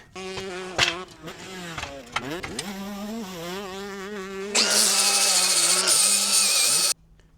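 A power tool whines and changes pitch as it grinds metal on a dirt bike tire changer, then rises into a loud, steady high-pitched grind before cutting off abruptly.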